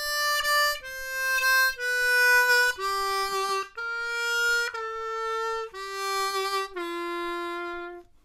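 A diatonic harmonica plays a theme alone: about eight sustained, reedy notes in a slow melodic line, each held roughly a second with short gaps, close and clear.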